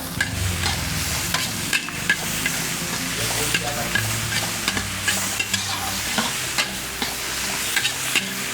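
Onions fry with a steady loud sizzle in a large pan at an old hotel kitchen making vaggarane mandakki, with regular scraping stirs clacking through it continuously.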